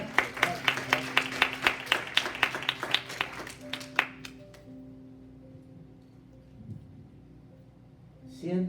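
A church congregation at a Spanish-language Sunday service claps in a steady, rhythmic beat for about four seconds, then stops and the room falls quiet.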